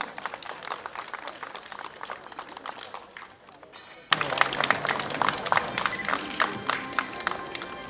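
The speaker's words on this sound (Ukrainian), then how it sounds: "Аплодуємо." Audience applause at an award ceremony for competition finalists breaks out midway, a dense wash of many hands clapping that carries loud and steady to the end, following a quieter stretch of softer scattered clapping and crowd noise.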